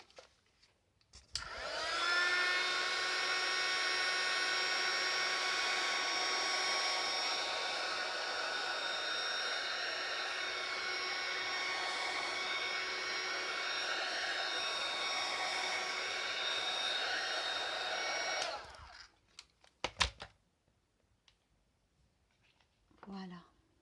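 A hair dryer blows steadily on Brushos paint laid on photo paper, a loud whining drone for about sixteen seconds that switches on and off cleanly, followed by a few handling knocks.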